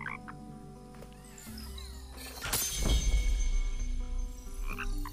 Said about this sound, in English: Oh my god, they're frogs?